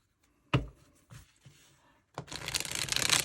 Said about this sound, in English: you can shuffle it as long as you get the right angle